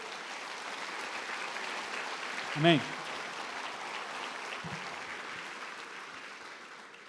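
A church congregation applauds in a steady, even wash of clapping that runs the whole time, with one voice briefly calling out over it.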